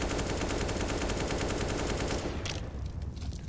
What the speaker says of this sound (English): Full magazine spammed into the smoke